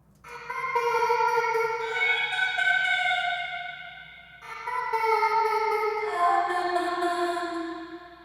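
Synth chord progression drenched in reverb and a trance gate, with smeared, swelling pads that wash into each other in two long phrases, alone and full, for a Scaler 2 auto progression.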